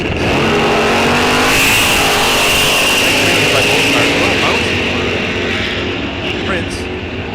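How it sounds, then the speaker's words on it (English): Loud drag-strip engines from a 2015 Camaro and a 400-cubic-inch 1968 Firebird B-stock automatic at an NHRA event roar steadily throughout, rising and revving under announcer commentary and slowly fading toward the end. "nald Price, Ron, out of Tamarack, Minnesota, in his 68 Firebird B-stock automatic, 400 cubic inches."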